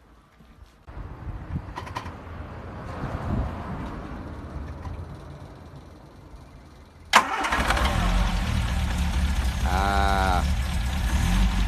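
A Ford Escort Mk2 with a 1.3 engine cranks briefly, then catches with a sharp start and settles into a loud, steady running note close by, with a short spoken exclamation and faint bird chirps in the background.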